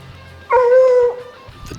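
A single drawn-out, wavering bay rises from a hunting hound running a bobcat track in the New Mexico mountains, heard clearly over quiet surroundings at moderate distance.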